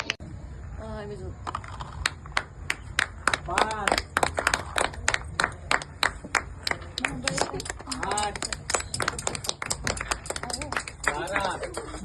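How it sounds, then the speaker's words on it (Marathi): A group claps hands in quick, repeated bursts during a Marathi family game show, Home Minister (Khel Paithanicha); voices shout and talk over the close, sharp claps. "टाळ्या वाजव सगळ्यांनी बाकी टाळ्या वाजव टाळ्या"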